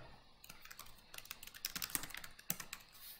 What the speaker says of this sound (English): I can do that simply by typing in their short name